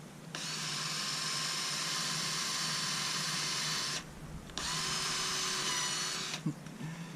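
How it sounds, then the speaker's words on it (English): A high-pitched power drill whines steadily while drilling a 3/16 inch hole in PVC pipe, stops briefly, then runs again in a second burst, close and fairly loud. "But we do need to drill a 3/16 inch hole"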